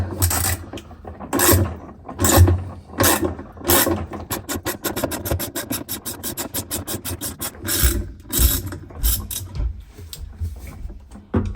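A socket wrench turns to open a washing machine and free its inner bowl, giving loud, close rasping ratchet strokes, first slow and separate, then a fast run of clicks, then slow strokes again, with no talk.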